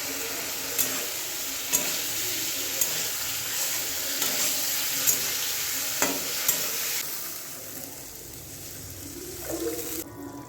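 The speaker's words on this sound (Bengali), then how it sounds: "এবার আলুগুলো দিয়েই কষাবো একসঙ্গে।" Potatoes and slit green chilies sauté and get stirred in a pan of spiced masala for a bhetki fish curry, a steady close sizzle with scraping stirs and small clinks throughout, easing slightly toward the end.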